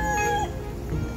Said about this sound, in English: it's always chickens running around